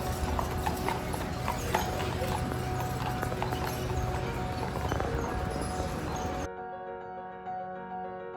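Horses clip-clop steadily along Main Street on Mackinac Island, with hooves striking pavement in a continuous rhythm and street ambience around them, before the sound cuts to quieter background near the end.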